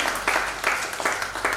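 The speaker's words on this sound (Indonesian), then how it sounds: "Berikan tepuk tangan" Rhythmic, unison clapping from a church congregation at a GBI Paturiani worship service during a Family Day gathering, about four evenly spaced beats in quick succession.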